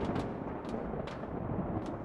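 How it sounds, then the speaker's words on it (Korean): Thunder in a horror video game about descending twenty flights of stairs, a low, faint, continuous rumble with a few soft crackling bursts and no talking. "천둥번개 쳤어."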